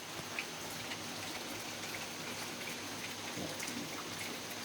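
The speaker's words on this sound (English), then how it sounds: "If you hear anything, that's rain on the rooftop." Faint, steady rain patters on a rooftop overhead, a soft continuous hiss with scattered tapping drops.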